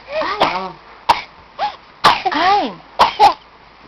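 A young child coughs repeatedly in short bursts, close to the listener, with whiny vocal sounds between the coughs.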